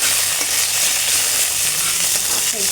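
Washed curry leaves hit hot oil in a pan with a loud, steady, broadband sizzle that crackles continuously for a few seconds, close by and with no voices.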